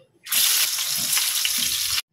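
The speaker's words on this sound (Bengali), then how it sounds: "একই তেলের মধ্যে আলুগুলোকে একটু ফ্রাই করে নেবো" Potatoes frying in hot oil, a loud, close sizzle that starts abruptly, holds steady for about two seconds, then cuts off.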